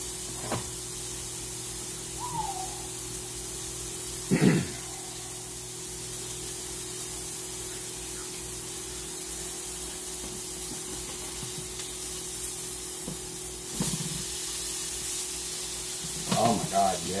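French fries frying in hot oil make a steady loud sizzling hiss throughout, with a few brief clunks and stirring sounds now and then and a faint voice in the background.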